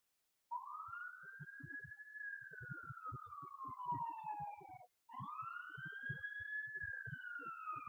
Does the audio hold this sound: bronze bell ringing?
no